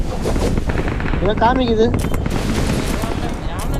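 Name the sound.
gunfire in the video game PUBG Mobile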